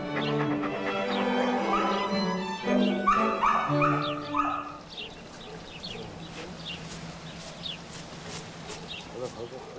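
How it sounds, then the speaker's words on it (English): Pedigreed dogs in clean kennels bark and yip in a loud, overlapping chorus that fades after a few seconds into quieter background yelps and birdsong, with a narrator's voice over it. "a collection of pedigreed dogs, housed in kennels kept immaculately clean"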